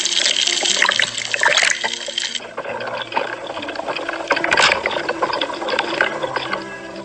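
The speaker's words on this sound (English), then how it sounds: "water poured from the helmet" Water pours out of an astronaut's helmet in a continuous, loud, splashing gush with bubbly, trickling texture throughout.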